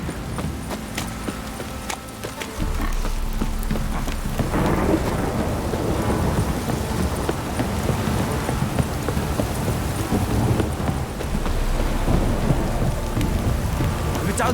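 Steady heavy rainfall with low rumbling thunder in The Witcher 3 game world, rain swelling louder after a few seconds and continuing as a dense, constant wash throughout.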